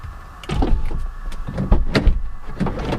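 The door of a BMW E36 325is coupe opening, heard close: a latch click followed by a series of mechanical clunks and thumps, with a faint steady hum in the background.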